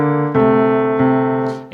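Piano playing part of a song, a few sustained chords struck close and clear, with a brief voice at the end.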